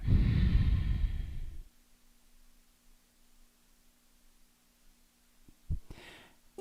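A forceful pranayama breathing exercise with pumping of the belly: a loud, rushing, breathy exhalation for about a second and a half, then quiet, with small breath sounds near the end.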